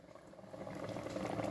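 Mango boils in a pot, a faint, close bubbling patter that grows slightly busier over a second and a half, with no talking.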